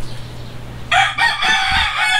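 A rooster crows loudly and close among breeder chickens, its long call cutting in after a low steady background hum, with clucking from the flock mixed in.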